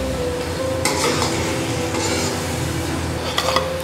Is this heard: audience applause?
no